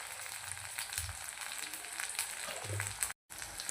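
Tomato and red chili fry over low heat in a pan, giving a soft, even sizzle with a few stirring scrapes and one brief dropout near the end.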